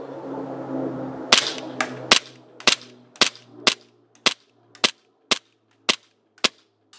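A gas blowback airsoft pistol running on a CO2/HPA adapter fires about a dozen sharp, close cracks in a fairly even rhythm, each shot snapping alone with quiet between.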